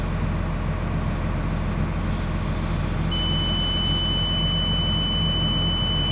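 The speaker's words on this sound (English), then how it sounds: "obviously we're throwing codes and beeping" A warning beeper sounds on a Gleaner combine with a failed injector pump, a steady high tone starting partway through over a loud, constant engine drone.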